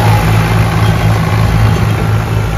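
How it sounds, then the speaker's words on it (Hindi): Tractor engine running at a river sand extraction site where one tractor is stuck in the river, a loud, close, steady mechanical drone with a low throb and no talking. "कि ट्रैक्टर जा रहा है उस ट्रैक्टर को निकालने के लिए।"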